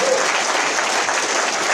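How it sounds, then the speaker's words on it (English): A podcast panel audience bursts into dense, loud applause, a continuous wash of many hands clapping at once, close and steady for the whole short stretch with no talk over it. "big round of applause for Ernie Hudson for this panel"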